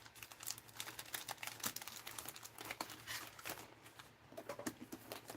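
Wrapped package paper crinkles and tears in a close, busy run of sharp rustles and crackles, steady and fairly quiet with no talking.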